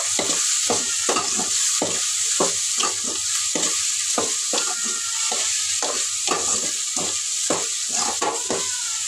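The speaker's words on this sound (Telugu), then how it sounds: "ఇట్లా కలిపేసినాను ఒకసారి బెండకాయ కూడా కలిపేసిన" Okra fry with chili powder being stirred in a hot pan, steady sizzling under repeated spoon or spatula scrapes at a quick, uneven rhythm, close and fairly loud with no talking.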